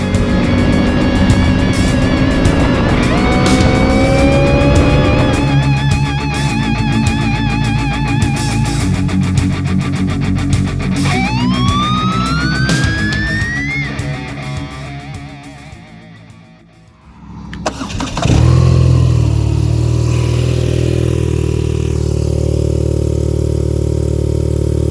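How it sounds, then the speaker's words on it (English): BMW R nineT motorcycle, 2022 model, with stock Akrapovic exhaust, close by, rumbling at idle and then revving up several times, the revs dropping away before the engine settles back to a steady idle. "Pretty cool sounding exhaust, not super loud, but not bad for a stock exhaust."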